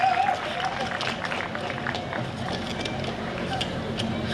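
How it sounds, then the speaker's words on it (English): An audience at a school event claps in a steady, moderately loud wash of applause that lasts throughout, with a brief tonal sound near the start. "I should be getting the biggest applause here"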